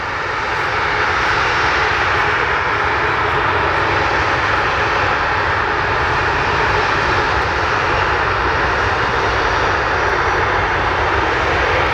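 A steady, loud airplane engine roar spooling up at an airport fills the whole stretch, a continuous broadband drone with no break.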